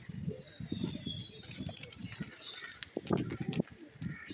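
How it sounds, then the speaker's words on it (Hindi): Pigeons flap their wings in quick, uneven bursts nearby and low coos sound among them, all fairly faint. "ये देखें, माशाल्लाह से कबूतर मेरे उड़ गए हैं।"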